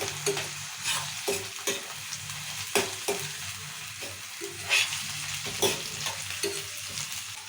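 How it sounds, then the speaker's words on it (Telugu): Onion, chilli and tomato frying in a pan for a ridge gourd and moong dal curry, with a steady sizzle under repeated scraping spoon strokes that come in irregular bursts close by. "ఇక టమాటా కూడా వేస్తాను ఇప్పుడు ఒక రెండు నిమిషాలు ఇట్లా కలుపుకోవాలి"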